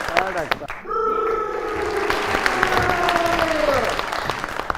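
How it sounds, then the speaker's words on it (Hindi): Loud applause from a crowd, steady and sustained, with a voice talking over the clapping. "बहुत सारी तालियां हैं"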